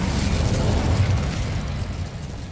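Incendio fire spell blast in Hogwarts Legacy, a rumbling burst of fiery noise that swells near the start and gradually fades over a couple of seconds.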